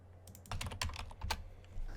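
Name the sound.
typing on a computer keyboard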